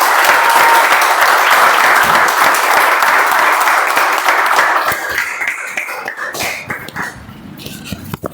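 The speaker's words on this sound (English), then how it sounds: "With a huge round of applause, please help me welcome Toastmaster Raju onto the stage." Loud, sustained audience applause welcoming a speaker onto the stage at a Toastmasters club meeting, thinning to scattered claps and a few coughs toward the end.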